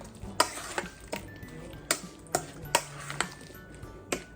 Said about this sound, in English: So I'm just gonna give it a stir